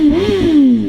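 Suzuki GSX-R1000 sport motorcycle, a 2006 model, revving hard for a tire-warming burnout, one loud close engine note rising then easing off in under a second, with no talk.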